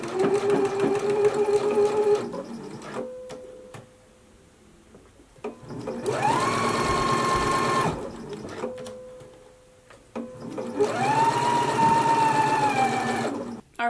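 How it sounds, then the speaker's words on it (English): A sewing machine stitches a 5/8-inch seam on an unlined jacket in three steady whirring bursts of about two seconds each, separated by short pauses with faint handling sounds, close and fairly loud. "now we're going to stitch at a 5/8 of an inch seam allowance"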